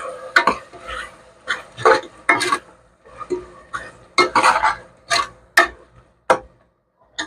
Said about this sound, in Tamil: இந்த உப்பு போட்டு நல்லா கிளறி விடுங்க.